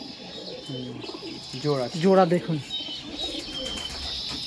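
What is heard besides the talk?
pigeons cooing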